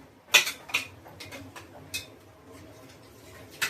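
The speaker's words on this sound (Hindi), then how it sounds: "बहुत सारा बर्तन था, हो गया।" Dishes and utensils being washed give sharp, close clinks and clatters, a few loud knocks at first and then sparser light taps, with no voices.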